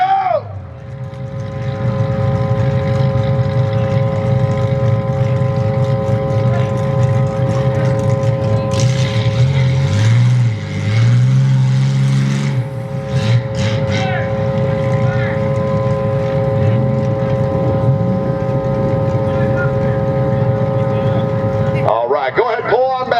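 Demolition derby car engines rumble and rev in an outdoor arena, a loud continuous drone with a few surging bursts partway through, while an announcer talks over the noise.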